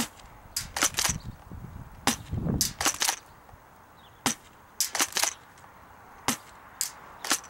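A Bravo tri-shot airsoft shotgun fires outdoors on a windy day: a series of sharp, snappy cracks in irregular clusters, some in quick doubles and others spaced apart, with faint mechanical clacks between them.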